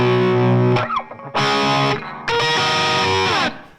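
Distorted electric guitar riff, run through a delay pedal and light reverb, playing loud sustained chords and bends in three bursts with echoing tails between them.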